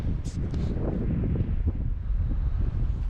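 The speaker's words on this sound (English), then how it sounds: "So here we are back in the cold wind" Cold wind blows outdoors at a coastal World War II site in Montrose, buffeting the microphone with a loud, continuous low rumble and gusty roar.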